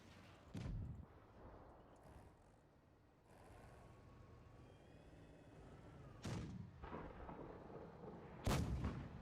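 Heavy tank cannon shots in a World of Tanks-style game, including a KV-5, boom out as several loud, sharp blasts with rumbling tails over low background battle noise.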